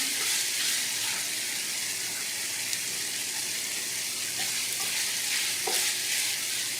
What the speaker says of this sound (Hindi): टमाटरों का पानी खुश्क हो गया और ये अच्छी तरह फ्राई हो गया है। अब इसके अंदर मैं ये शिमला मिर्च डालती हूँ।